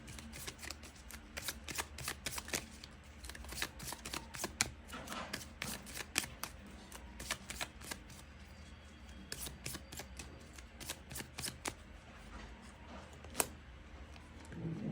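A deck of tarot cards is shuffled close up, with rapid riffling bursts repeating steadily through the whole stretch, crisp and fairly quiet, with no talking.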